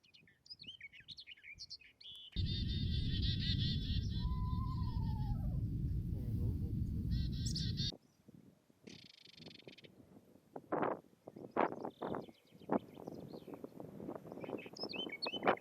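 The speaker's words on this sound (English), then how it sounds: "Here we saw more warblers, such as a chiffchaff, and more common whitethroats." Warblers such as a chiffchaff and common whitethroats sing from bushes, with short scratchy phrases and chirps in bursts, partly over loud wind rumble, then clearer nearby song in the latter half.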